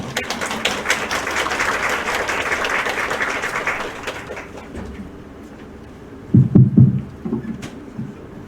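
Applause from an audience greeting the opening of an academic conference, a broad burst of clapping that fades out after about four seconds, followed by a few scattered soft thumps and taps in a quiet hall.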